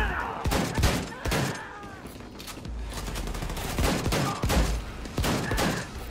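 Shotgun firing in Wolfenstein II, with loud close blasts repeating at irregular intervals of about a second, mixed with other combat noise and a few brief voice fragments.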